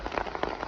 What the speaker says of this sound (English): but it is now raining and I'm not getting wet.